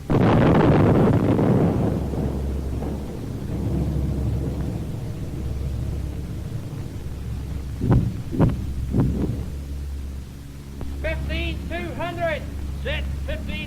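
A World War II "Ack Ack" anti-aircraft gun fires in a few sharp booming bursts near the middle, with a heavy rumble at the start and low background noise between rounds; shouted commands are heard over it.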